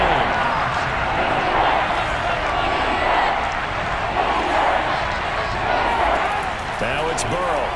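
A stadium crowd roars loud and steady in the Madden 22 American football video game, with a commentator's voice over it.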